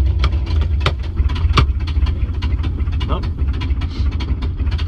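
A 1953 Studebaker car engine runs in gear with a steady low, rough rumble and irregular clattering pulses, heard up close as a voice is briefly present.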